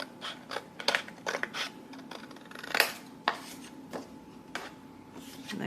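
Scissors snip through scrapbook paper pieces for a beach bag mini album: a series of close, crisp cuts in uneven bursts with short pauses between, and no talking.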